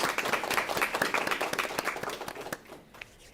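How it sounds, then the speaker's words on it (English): Audience claps for guests at a school career and technical education signing day, dense clapping that thins and fades out over the last second. "Let's have a big round of applause for our friends from Leaf Spring"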